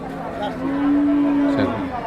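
A single long, loud moo from a desi Sindhi-type cow at a busy cattle market in Mirzapur, Tangail, rising over a background of crowd chatter and voices.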